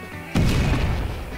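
An explosive heavy punch ability lands in the video game UnConventional: one sudden booming impact that rings out loud and decays over about a second, with no talk.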